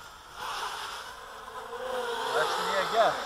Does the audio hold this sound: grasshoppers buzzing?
yes